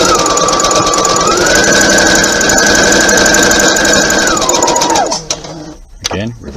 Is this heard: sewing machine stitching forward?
yes